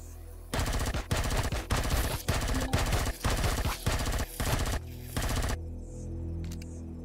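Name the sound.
gunfire from a gun in the video game Empyrion Galactic Survival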